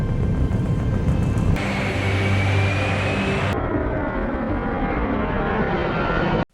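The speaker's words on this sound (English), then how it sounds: "Soon after, the plane takes off." A passenger airplane takes off, its engine roar loud and continuous, swelling partway through with a rising whine before the upper tones drop away, then cutting off abruptly at the end.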